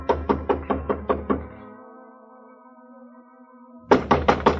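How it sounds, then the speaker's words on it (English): Sharp knuckle raps on an apartment door, a rapid series of six or seven hollow knocks, a pause filled by a fading musical tone, then another quick burst of four knocks, loud and close. "climbed the stairs, and knocked on her door."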